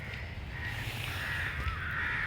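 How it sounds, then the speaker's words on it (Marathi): Crows cawing at dusk outdoors, a few harsh calls at moderate distance over a steady low background hum. "पक्षी सगळे घराकडे परतायला लागलेले आहेत."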